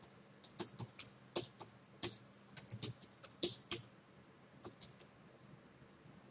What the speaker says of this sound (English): simply type in some layers